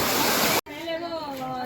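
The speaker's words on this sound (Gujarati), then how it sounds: "આ પહાડ આખા જો આ જે ધોધ પડે ને મેન, હું આ ધોધ માટે જ આવી છું" Patanvav waterfall on Osam hill roars as a steady, dense rush of falling water; the sound cuts out briefly, then resumes slightly softer while a voice is heard over it.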